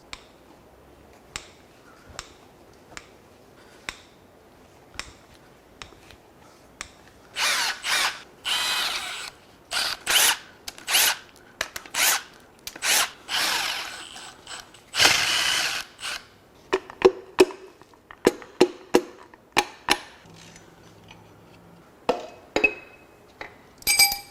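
A power tool loosens the connecting rod bolts on a Toyota 3RZ engine during a teardown, with repeated short bursts of high whirring and rattling broken by metallic clinks, close and loud, with no talking.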